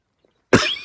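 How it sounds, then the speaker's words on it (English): A single sharp cough bursts out after a moment of near silence, loud and close, trailing off briefly. "there's a cough that I warned you about."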